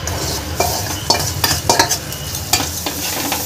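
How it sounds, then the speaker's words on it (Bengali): Fried vegetables stirred into boiled Maggi noodles in a hot pan, with a crackling sizzle broken by sharp scraping strokes of a spatula, close and loud, and no voices. "সবজিটা দিয়ে একটু নাড়াচাড়া করে নিই"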